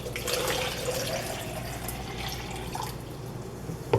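Water runs steadily into a betta fish tank with a soft, continuous trickle and splash throughout, ending in a small knock.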